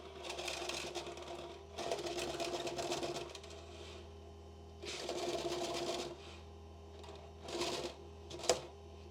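A sewing machine's bobbin winder spins binding on in several whirring bursts of one to two seconds, separated by short pauses, with a faint electrical hum underneath.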